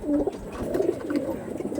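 Tournament-quality racing pigeons coo softly nearby, low throaty warbling calls repeating through a quiet background.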